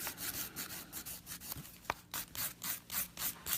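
Fingernails being filed by hand with a nail file during a manicure, a close, soft rasping rub repeating in short strokes with no talk.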